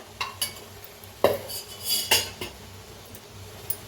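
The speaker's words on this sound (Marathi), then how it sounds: "आता बिन झाकताच बघा एक मिनिटभर असं हलवून शिजवून घ्यायची भाजी" Fenugreek leaf vegetable being stirred with ground roasted peanut powder in a pan, with a few metal spoon scrapes and clinks against the pan in short irregular bursts.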